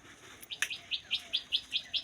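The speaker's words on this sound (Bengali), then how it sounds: "এই যে বলতে বলতেই কিছু পাখি ডাকছে" Birds calling around trees near a house in early winter morning, a rapid series of about eight bright, evenly spaced chirps, fairly close and clear over quiet background.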